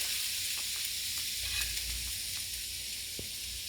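Homemade hash browns made from potatoes sizzle in hot oil in a pan, a steady broadband frying hiss that continues throughout, fairly close, with a few faint clicks over it and no talking.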